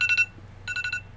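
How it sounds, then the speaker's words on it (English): An alarm goes off indoors with bright electronic beeps: a quick burst of three pulses, a short pause, then four more, close and clear over a faint background hum. "I forget to turn off my alarm for something, and sure enough, it goes off while I'm on the microphone."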